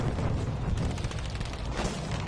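Tank shells explode in a multiplayer tank video game, a dense rumbling barrage of booms and blasts layered into continuous low-heavy noise, fairly loud and with no talk.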